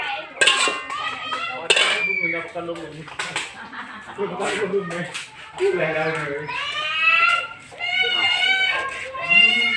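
Metal pan and utensils clatter and clink while cooking, with someone talking and children's voices chattering nearby.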